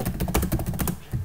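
Rapid clicking keystrokes on a computer keyboard, a steady close burst of typing with a brief pause near the end.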